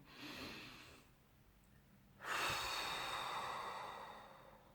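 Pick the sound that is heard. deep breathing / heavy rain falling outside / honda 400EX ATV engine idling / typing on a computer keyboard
deep breathing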